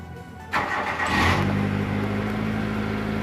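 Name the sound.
car engine starting after weak battery repair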